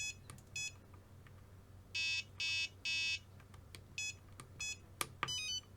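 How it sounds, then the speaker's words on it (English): A low-voltage alarm sounds on a Flysky FS-G7P radio transmitter running without batteries, giving repeated bursts of high electronic beeps in an irregular pattern, clear and close over a quiet background hum. "it's obviously saying alarm's going off because there's no batteries in it"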